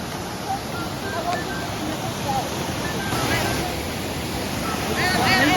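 High Shoals Waterfall in North Carolina sends up a steady, loud roar of rushing water along a wooded trail, an even broad wash that swells slightly toward the end, with faint voices now and then.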